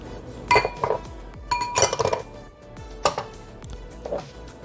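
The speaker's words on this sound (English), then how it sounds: "Now here I have some walnuts and pecans. I'm going to add this." Walnuts and pecans tumble into a bowl of banana muffin batter, giving several light clinks and clatters in short bursts, close and clear with no talking.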